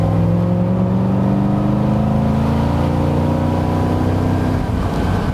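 A Daimler Dart SP250 sports car with a 140 horsepower engine is driven along, its engine giving a steady close drone with rising harmonic tones as it pulls through the gears, with no talking over it.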